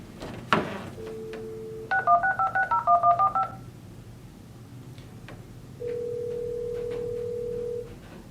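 A home phone connected through an OBi200 adapter plays a dial tone, then a quick run of about ten touch-tone dialing beeps, followed by a steady ringback tone, all clear and close with no talk.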